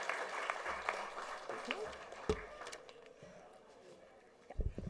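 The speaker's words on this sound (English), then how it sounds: "A huge round of applause for Mary Kom ma'am." An audience in Malad, Mumbai applauds world boxing champion Mary Kom at a felicitation event, faint distant clapping under room noise with a few louder isolated claps and thumps near the microphone.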